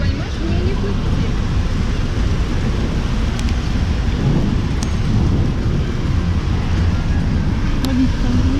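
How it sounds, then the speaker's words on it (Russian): Summer rain shower falling steadily outdoors on a July day, a dense continuous hiss of rain with low rumbling, loud and unbroken, with faint voices underneath. "Дождь грибной"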